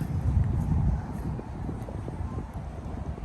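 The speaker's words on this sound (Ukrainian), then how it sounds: "Трошки вітерець, звісно, дує." Wind gusts by a lake, rumbling in low, uneven buffets against the microphone, strongest at first, then settling into a lighter, steady blow.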